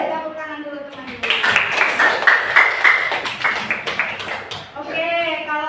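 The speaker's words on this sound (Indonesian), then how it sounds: "Kasih tepuk tangan dulu teman-teman." Students in a classroom break into a burst of rhythmic group clapping after a teacher's speech, close and lively for a few seconds before talking resumes.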